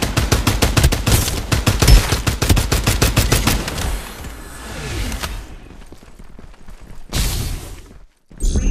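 Rapid bursts of automatic gunfire in the Farlight 84 video game, loud and close for several seconds, then thinning into scattered shots, whooshes and a few sharp late bursts.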